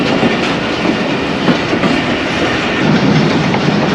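The Karachi Express train runs through flood-hit Sindh in 2022. Its wheels give a steady, loud rumble and clatter on the rails close by, with no talking.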